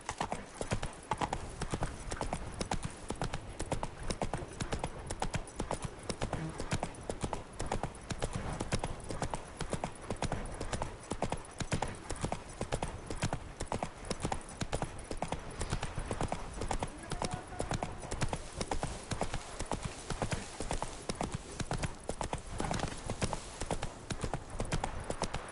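Steady galloping horse hooves from The Witcher 3 video game pound in a fast continuous rhythm throughout, close and prominent, with a voice speaking now and then over the game sound.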